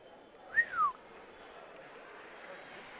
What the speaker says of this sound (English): That was whistle worthy.